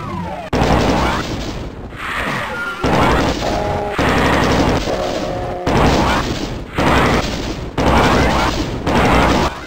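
Burst-fire weapon shots in the classic Doom 1 video game ring out as about seven loud, sharp volleys, each a short blast followed by a brief decay, spaced roughly a second apart.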